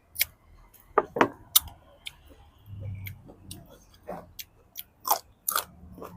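Close crunchy bites and chewing of food eaten with dipping sauce, fresh vegetables and mint, coming in irregular sharp bursts with quieter pauses between.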